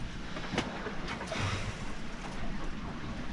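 Broad, steady wash of rushing water and wind, with a couple of brief surges of big sea waves slapping against a sailboat hull on the open Caribbean between Jamaica and Panama, no voices.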